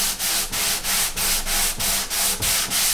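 Sandpaper rubbing back and forth across the wooden sides of an acoustic guitar, leveling them in a workshop; steady rhythmic strokes, about three per second, close and fairly loud with no talking.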